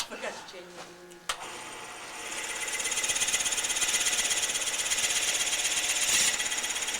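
A 1 5/8 inch Forstner bit bores into wood on a lathe or drill during an ornament-turning demonstration, with a steady, loud grinding whine after a sharp start, holding for several seconds.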